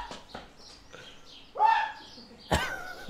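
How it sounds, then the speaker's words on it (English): Birds calling and chirping outdoors, a few distinct bright calls with gaps between them, fairly close, with no talking. "I love the noise that's in the background right now. All these fucking birds everywhere."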